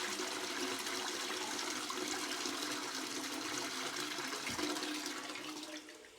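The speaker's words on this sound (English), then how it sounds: "So that's a nice long flush. That comes spilling out of here and washes the whole way around." A newly installed bathroom toilet flushing with a long, steady rush of water washing around the bowl, close and continuous before tapering off at the end.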